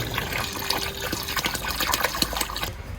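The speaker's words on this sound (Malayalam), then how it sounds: "നന്നായിട്ട് നനച്ചു കൊടുക്കുക." Water poured onto soil in an air-pot container in a garden, a steady splashing gush with trickles and small drips throughout, close and continuous, with no talk.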